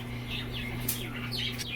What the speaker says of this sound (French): Même les oiseaux sont excités.